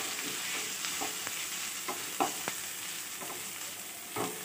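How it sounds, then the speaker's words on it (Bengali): Washed and drained Gobindobhog rice being stir-fried in a pan for cabbage pulao, with a steady soft sizzle under scattered scraping clicks of a spoon. "চালটা দিয়ে একটু ভাজা ভাজা করে নিতে হবে"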